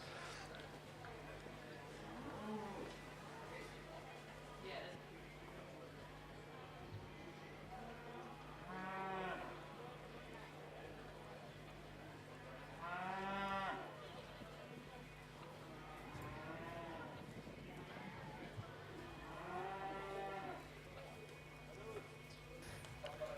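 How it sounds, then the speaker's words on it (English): Cattle low at intervals at a horse and cattle competition, several distinct moos standing out over a steady hum and a commentator's voice talking throughout. "Looking over her cattle now."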